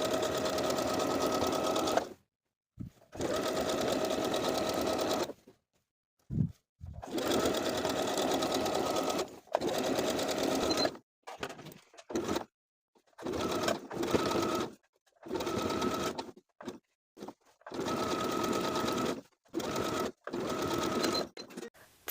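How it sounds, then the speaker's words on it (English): A sewing machine runs a zigzag top-stitch, 3 mm wide and 2 mm long, across an elastic waistband on athletic shorts, whirring loudly and steadily in repeated bursts of a few seconds, with short pauses between runs. "We're going to sew both rounds of top stitching with a zigzag stitch 3 millimeters wide and 2 millimeters long."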